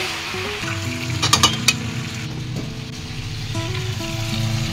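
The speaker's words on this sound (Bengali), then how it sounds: "ঢাকাটা খুলে আবার আমি কষাতে থাকবো" Chicken kasha frying in a pan while it is stirred, a steady close sizzle with a quick burst of sharp clinks partway through and no talking.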